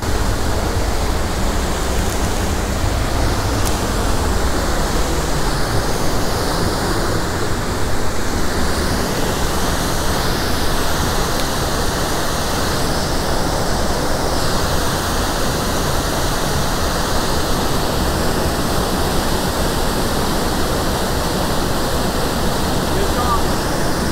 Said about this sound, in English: Right at the base of the waterfall, too.